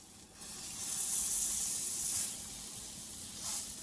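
A bread bun toasting in butter on a pan makes a soft, steady hiss and sizzle that swells and fades gently, close and fairly quiet.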